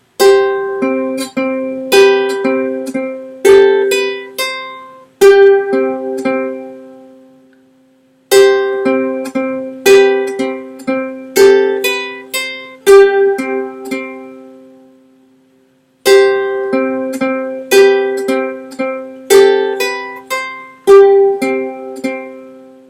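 A plucked string instrument plays a slow melody of ringing single notes and chords in three phrases, each separated by a short pause, with no talking.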